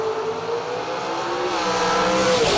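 A 1998 Grand Am drag race car at a drag strip launches hard, with a loud, steady engine roar that climbs in pitch as it accelerates away.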